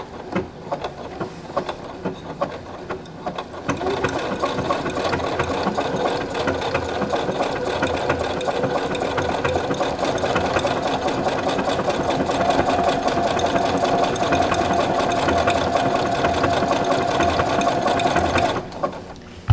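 Sewing machine stitching with a twin needle, running in a steady continuous whir with a fast mechanical rhythm that starts after a few seconds and stops near the end, close and loud.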